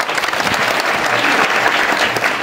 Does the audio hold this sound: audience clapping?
yes